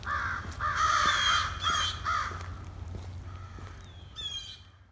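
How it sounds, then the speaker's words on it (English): Crows caw in a rapid series of loud, harsh bursts outdoors, easing off before one fainter call at the end. "Some kind of avian warfare going on here."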